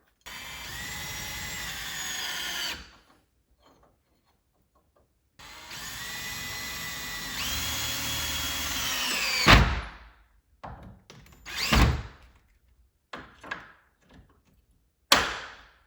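A power drill tightening the screws on a lever door handle during a knob-to-lever swap, with two sustained whirring runs, the second rising in pitch, followed by sharp clicks and knocks of hardware and tools nearby.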